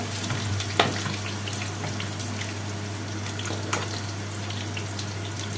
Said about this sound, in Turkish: Evet arkadaşlar soğanım da burada kavruluyor.